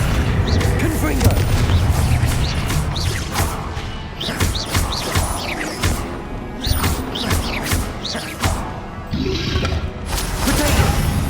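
Repeated Confringo spell blasts in the Hogwarts Legacy video game, heavy booms and crashes in close succession amid a constant barrage of combat effects, with a voice calling out over them.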